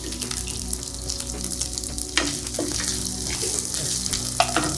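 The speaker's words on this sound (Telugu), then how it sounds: "రైస్ వేసుకుంటున్నాం." Rice stirred into hot tempering in a pan on the stove, giving a steady close sizzle and frying hiss with occasional scraping and clinks of a spatula throughout.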